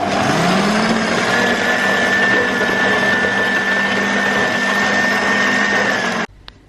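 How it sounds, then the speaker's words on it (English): A stand mixer fitted with a paddle beats butter, its motor humming loudly and steadily at an even pitch for several seconds before cutting off abruptly and leaving near silence. "we've got the paddle onto the mixer. And then we're going to start beating it."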